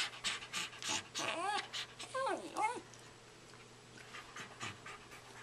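Dogs pant quickly and close to the mic in a home, with a few high whiny yelps mixed in. After that the panting fades to quieter breaths.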